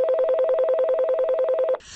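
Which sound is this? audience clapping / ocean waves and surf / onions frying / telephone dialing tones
telephone dialing tones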